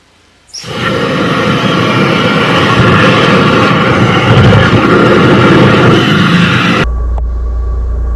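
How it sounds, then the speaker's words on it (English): A high-pressure drain jetter runs loud and steady for several seconds while clearing tree roots from a blocked pipe, a dense roaring rush that starts abruptly and then cuts down to a low rumble. "So we got the jetter cranking, but look at that blockage."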